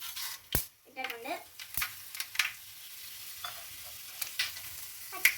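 Fenugreek seeds sizzle in hot oil in a pan for a lemon and date pickle, a soft frying hiss broken by scraping stirs and a few sharp clinks of a utensil against the pan.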